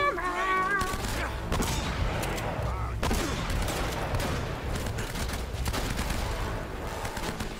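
Shotgun blasts and heavy gunfire burst loudly and continuously through a firefight in the video game Uncharted: Drake's Fortune, with a voice talking over it at the start.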